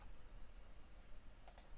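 Two quick, faint computer mouse clicks come close together near the end of an otherwise quiet stretch.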